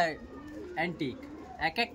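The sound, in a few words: pigeons cooing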